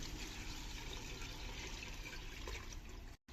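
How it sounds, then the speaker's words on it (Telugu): Water pours steadily into a pot of sprouts biryani in a home kitchen, a continuous faint splashing stream that breaks off briefly near the end. "ఇప్పుడు మన బిర్యానీకి కావాల్సిన అన్ని వాటర్ పోసుకోవాలి."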